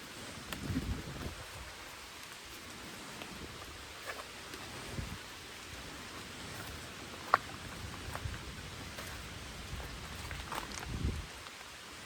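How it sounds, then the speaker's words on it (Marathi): Steady rain patters softly on surfaces, with a few sharper drops and a brief clack partway through. "कसं पाऊस आला ना म्हणून थोडा लपतोय."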